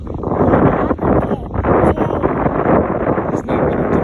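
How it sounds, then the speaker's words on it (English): Strong, gusty wind at the beach buffets the microphone in a loud, continuous roar, with brief dips between gusts. "don't get in the water because it's too windy today"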